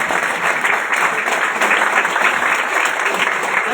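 A Mumbai meeting audience claps in a dense, steady burst of applause that stays loud and close for the whole stretch, with only a trace of crowd murmur underneath.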